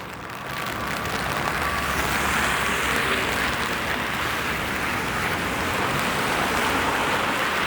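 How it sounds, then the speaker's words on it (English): Steady rain falls on Yonge Street in Toronto, a dense, even hiss of drops on pavement that stays loud and constant throughout with no talk. "I think I just saw a raindrop pop up onto the lens."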